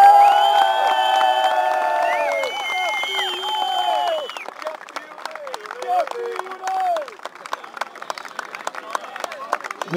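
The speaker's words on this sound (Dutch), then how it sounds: "Mag ik u een daverend applaus vragen," A crowd at a K Mariaburg football club championship celebration cheers with sliding, whistle-like voices, then breaks into scattered, uneven clapping that thins toward the end.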